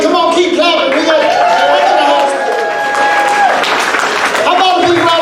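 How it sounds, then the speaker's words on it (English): Sustained casino crowd applause and clapping fill the space, loud and dense, with a voice on a microphone talking over it. "Come on, keep clapping."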